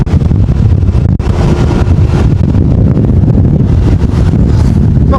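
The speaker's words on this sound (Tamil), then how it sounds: "இப்போ கொஞ்சம் காற்று குறைவு" Strong storm wind roaring over a flooded street in Jaffna, a loud, continuous buffeting rumble battering the microphone with no letup.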